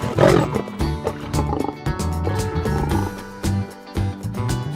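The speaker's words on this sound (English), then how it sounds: "Lion." A lion roars over a dense music bed, heard loud and sustained with rumbling low pulses through the whole stretch, in a children's zoo-animal naming sequence.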